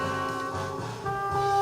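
Jazz from a vinyl record, a short stretch of sustained horn-like tones over a low rhythmic pulse at steady volume.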